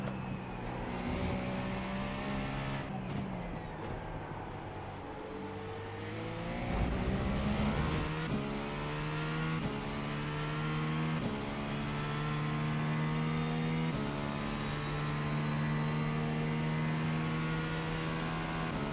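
GTP prototype race car in iRacing, its engine revving and shifting through gears with rising and falling tones, a steady loud drone alone with no talk.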